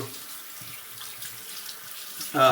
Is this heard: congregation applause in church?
no